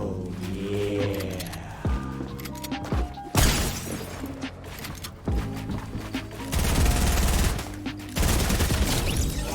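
Fortnite arena gameplay gunfire fills the sound with rapid, dense volleys of shots, sharp cracks and impacts, loud and continuous, with bursts swelling and easing over about ten seconds.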